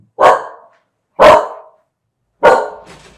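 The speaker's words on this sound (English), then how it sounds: "Oh, well, my dog." A border collie mix dog barking three loud, sharp barks spaced about a second apart, close by, with silence between them.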